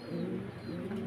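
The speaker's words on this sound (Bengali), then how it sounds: "দেখেন কবুতরটা।" A pigeon at a pigeon farm gives a low, continuous cooing close by, a soft throaty rumble that fills the short moment with no talk over it.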